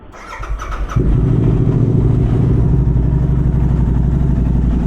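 A motorcycle engine fires up about a second in and settles into a loud, steady idle as it warms up before a ride, close by with no talking.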